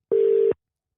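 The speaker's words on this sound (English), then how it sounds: "I'm ringing them right now." A single steady telephone tone sounds for about half a second, clean and close, then cuts off into silence.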